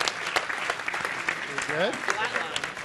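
An audience claps at a Microsoft Ignite 2015 conference session on Exchange Server, a steady patter of applause from many hands throughout, with a brief spoken word partway through.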